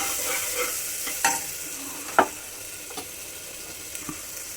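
Turmeric, homemade masala and red chili powder frying in oil for khichdi, a close, steady sizzle broken by a few distinct scrapes and taps of a spoon stirring the pan, with no talking.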